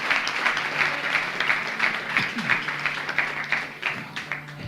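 A congregation claps during a church service, steady and fairly close, with rhythmic swells in the clapping and faint voices mixed in, continuing for a few seconds.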